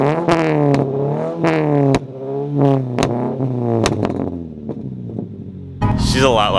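A Subaru BRZ with a louder modified exhaust, warmed up and revved while parked: repeated sharp throttle blips rise and fall close to the microphone, with harmonic engine tones swelling and dropping between bursts.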